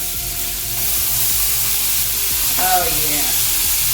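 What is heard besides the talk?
sauerkraut sizzling and stirred in frying pan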